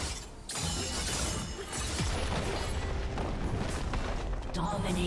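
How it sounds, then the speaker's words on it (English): A turret crumbling in League of Legends, heard as a loud shattering, booming collapse with continuous crashing debris and rumble throughout, mixed with dense game effects. "turret has been destroyed"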